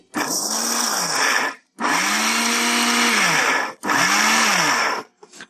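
A mixer grinder grinding cocoa powder into a mixture whirs loudly in three bursts separated by short pauses, each run steady and high-pitched, with no talking.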